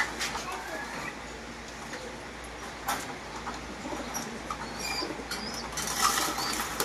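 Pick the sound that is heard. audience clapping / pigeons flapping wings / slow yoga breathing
pigeons flapping wings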